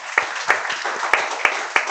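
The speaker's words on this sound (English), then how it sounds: "Let's give a round of applause to Joyce" A few sparse, individual hand claps at a city mayoral debate, spaced unevenly over a soft background murmur, near and moderately loud rather than a full ovation.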